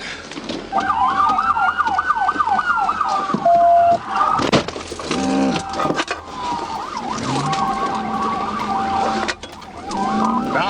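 Wailing and yelping police car siren during a high-speed chase through residential streets in Arkansas, loud and close, cycling steadily through the clip with engine and road noise underneath.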